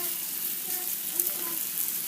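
Makki roti, a maize-flour flatbread, fries on an oiled tawa with a steady, soft sizzle and faint crackles, heard close and alone.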